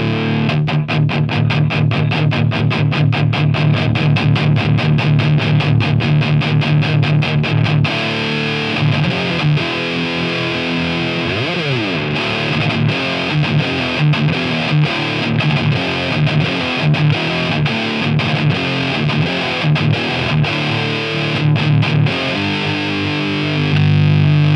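Electric guitar through a Thermion Gasoline distortion pedal with every knob set at 5, playing dense, continuous distorted riffs with fast palm-muted chugging, bends and sustained chords; loud, close and uninterrupted by talk.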